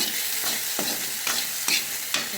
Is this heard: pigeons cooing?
no